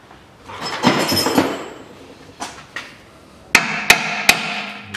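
Metal hammer blows striking a seized camber bolt on a 2008 Mitsubishi Pajero 3.2 litre, some duller taps early then three sharp, loud, ringing impacts spaced about half a second apart near the end.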